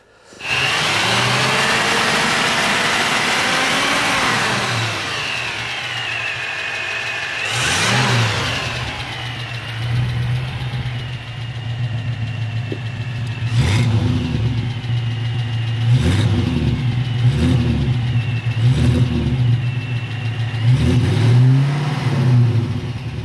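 A 1936 Cord 810 with a 4.5-litre V8 and a large carburettor starts and runs loudly up close, idling with a steady rumble and rising in several sharp revs.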